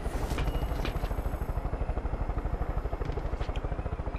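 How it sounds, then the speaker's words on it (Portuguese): A helicopter in the video game Far Cry 5 chops steadily with fast, even rotor beats and a whining engine, close and loud, with no talk over it. "Gostei do helicóptero, maneiro, bem prático."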